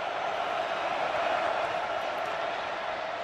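Football stadium crowd on its feet, Clemson versus Notre Dame, a broad continuous roar of distant cheering that stays loud and steady throughout without a break.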